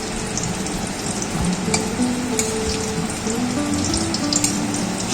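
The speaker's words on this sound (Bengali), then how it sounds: "এবার বড়াগুলোকে উল্টে দিচ্ছি।" Fish roe fritters crackle loudly in hot oil as they are flipped one by one, a dense continuous sizzle with scattered spatters and light utensil touches close by.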